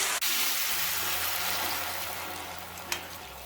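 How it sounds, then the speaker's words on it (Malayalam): Rice flour batter for halwa appam is poured into a hot pan holding fried cashews and hisses into a loud, steady sizzle that fades gently. A short clink comes near the end, and no one talks. "നമ്മൾ ഈ കലക്കി വെച്ചിരിക്കുന്ന ഈ അരിമാവുണ്ടല്ലോ അത് ഇതിലേക്ക് ഒഴിച്ചു കൊടുക്കാം"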